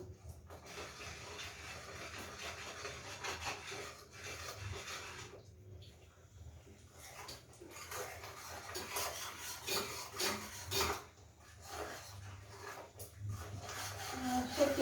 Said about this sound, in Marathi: सारखं खालीवर करत राहायचं हा मसाला परतून घेत राहायचं सारखं